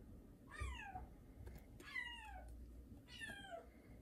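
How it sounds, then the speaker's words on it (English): A house cat meows three times indoors, each call a faint, drawn-out falling meow with gaps between, against quiet room tone. "Sorry about that, that's my cat."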